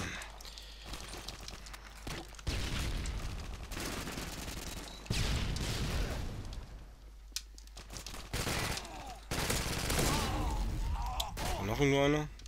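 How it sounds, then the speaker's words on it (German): Rapid gunfire comes from several directions in a German-played video game of close-quarters house fighting with a Vector submachine gun, bursts and volleys crackling loud and near in uneven clusters, with someone talking over parts of it. "von drei Seiten schießen sie auf mich"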